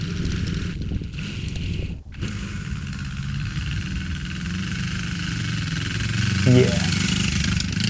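The engine of a Suzuki GS450 cafe racer motorcycle hums steadily and gets slightly louder as the bike rides off, with a brief voice heard over it.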